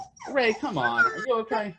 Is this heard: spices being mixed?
no